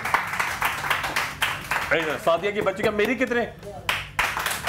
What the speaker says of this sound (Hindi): तुम लोग की तालियां बताएंगी